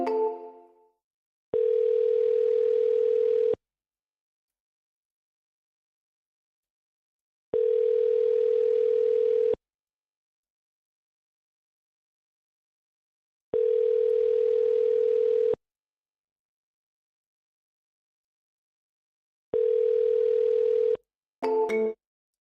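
A telephone call rings out unanswered, with four evenly spaced, identical electronic ringback tones, each about two seconds long and separated by silent gaps, ending with a brief blip.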